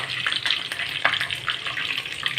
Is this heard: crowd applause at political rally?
no